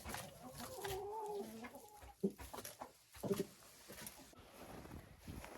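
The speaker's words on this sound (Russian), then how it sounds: "Вот эти курочки, молодцы." Hens cluck and murmur in short bursts at close range at a country house, with a few sharper calls and shuffling, faint background noise.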